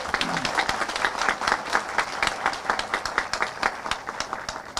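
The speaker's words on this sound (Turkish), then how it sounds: "Onlara bir alkış daha rica ediyorum sizden." Audience applause at a foundation-laying ceremony for a daycare and care home, steady dense clapping from a crowd filling the whole stretch with little let-up.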